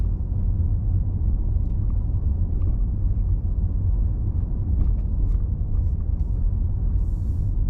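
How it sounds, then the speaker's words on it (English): A car rolls through city neighborhoods in Ontario, Oregon, a steady low road rumble and engine drone from inside that holds unbroken throughout, with no talking. "I'm just driving through some of the neighborhoods"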